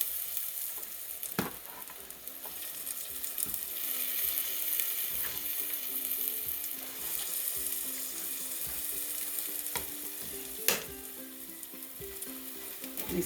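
Chicken and dumplings stirred in a pot, a quiet steady simmer and sizzle with soft scraping and a few sharp clinks of a spoon against the pot.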